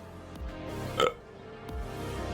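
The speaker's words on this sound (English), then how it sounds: "That was another burp, sorry." A single short burp from a person during a Disco Elysium game stream, loud and sudden against quiet room background, with no talking around it.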